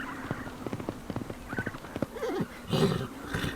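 Przewalski's horse moving close by, hooves clopping in an uneven rhythm, followed by a loud neigh and a snort near the end.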